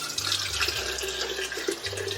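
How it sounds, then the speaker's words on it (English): Homemade lemon balm water being strained, a steady pouring and splashing stream of liquid running continuously at moderate loudness, with no talking. "I'm just going to strain this."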